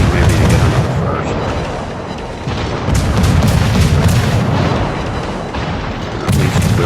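Rapid naval gunfire from the USS Kidd destroyer in a video game: a dense, loud wash of booming shots and rumble, continuous with repeated heavier blasts and faint talk underneath.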